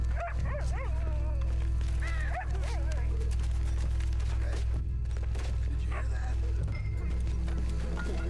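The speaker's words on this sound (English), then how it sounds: "There's a dog here barking." A dog in Red Dead Redemption 2 barks and yips repeatedly in short bursts, fairly close, under a low game rumble while someone talks over it.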